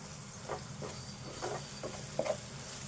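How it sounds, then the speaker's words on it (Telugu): Egg and tomato curry with garlic paste frying and being stirred in a pan, a steady low sizzle and hiss with soft, repeated stirring scrapes at a regular pace throughout. "మనం ఇట్లా కలుపుకుంటే ఇది కూడా వేగుతుంది ఇవన్నీ కూడా వేగాలి"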